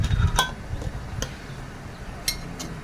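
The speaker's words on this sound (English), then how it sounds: "we're going to put the lids onto our peach butter" Metal canning lids go onto glass jars of peach butter in a home kitchen, giving a few sharp, close clinks and taps spaced apart over a quiet background.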